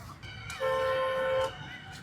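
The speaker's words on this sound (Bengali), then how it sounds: "একটা ট্রেন লিটারলি আমাদের সামনে দিয়ে যাচ্ছে" A train running along a street with no separate rail line, sounding a sustained horn that swells in and holds for about a second before cutting off, with street ambience around it.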